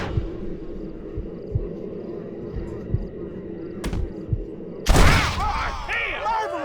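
Sporadic gunshots in Red Dead Redemption, a few sharp reports among low thumping sounds, then a loud blast near the end followed by ringing noise, with voices talking throughout.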